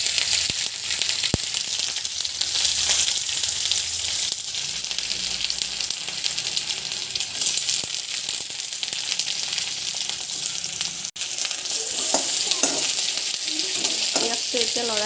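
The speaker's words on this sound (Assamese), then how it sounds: "পিঁয়াজখিনি ৰঙচুৱা হোৱালৈকে ভাজি ল'ব লাগিব" Onions fry in hot oil in a pan with dried red chillies and bay leaf on low gas, a steady close sizzle under repeated scraping stirs of a spoon throughout.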